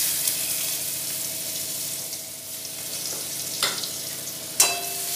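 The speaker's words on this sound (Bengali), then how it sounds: "এবার ওতে দিয়ে দেব এইভাবে মিহি করে কুচোনো সামান্য পেঁয়াজ।" Finely chopped onion frying in hot oil with dried red chilli and whole cumin makes a continuous close sizzle, with a couple of sharp stirring clatters near the end.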